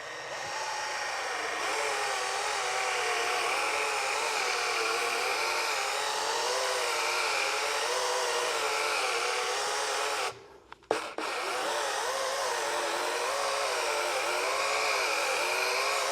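A machine polisher buffs the surface of a 1935 Packard with Griot's Garage Fast Correcting Cream rubbing compound, making a steady, close whirring hum with a slightly wavering pitch and a brief stop partway through.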